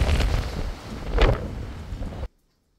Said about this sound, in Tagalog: mahangin siya